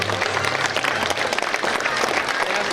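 A crowd at a medieval day event claps in a loud, continuous burst of applause that stays strong throughout, with a faint low murmur beneath it near the start.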